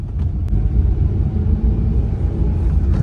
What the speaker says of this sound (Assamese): গাড়ীৰ শব্দ শুনে